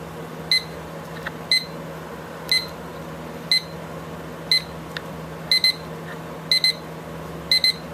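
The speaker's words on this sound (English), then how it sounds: "Okay, now that's the alarm." A Lego Star Wars minifigure alarm clock sounds sharp, high beeps in short bursts, some single and some doubled, against a low steady hum.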